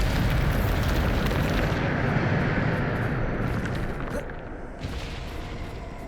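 A Bombarda spell explodes in Hogwarts Legacy, a loud sustained roaring blast that slowly fades, with no talk over it.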